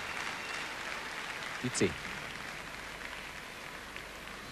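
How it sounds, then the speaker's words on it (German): Rhythmic staccato clapping rises from the audience at the 1989 World Gymnastics Championships uneven bars final, a steady broadband wash of hands under someone commentator's talk. "Staccato Beifall"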